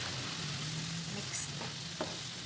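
Chicken curry sizzling steadily in a pan while being stirred, a soft continuous frying hiss with a couple of brief scraping clinks near the end.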